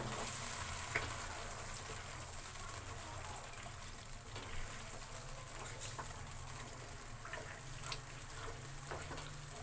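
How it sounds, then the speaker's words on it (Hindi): A spoon stirring makhandi halwa in a hot pan, with a continuous soft sizzle and frying hiss under faint scraping strokes, steady and close throughout. "अब इसमें हमने चम्मच चलाना है।"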